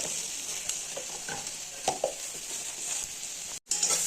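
Okra sizzling as it fries in a kadai and gets stirred, a steady bright hiss broken by a few soft scrapes of the spatula and one brief dropout near the end.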